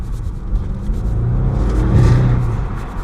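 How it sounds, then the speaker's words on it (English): An Audi RS6 Performance revving in dynamic mode, a deep, loud rumbling engine note that swells toward the middle of the short burst and stays close, with no voices over it. "I wonder how much difference it makes to the noise if we put it in dynamic."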